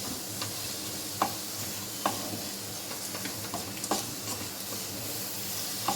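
Carrot fry with freshly added coriander stirred in a pan, with a soft, constant sizzle and light, intermittent scrapes and taps of the spoon, quiet and close, with no voices.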